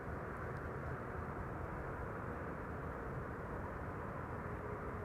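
Steady jet engine roar from airliners landing and taking off at Amsterdam Schiphol Airport, a continuous broad rumble with no breaks, heard from a distance and without any talking.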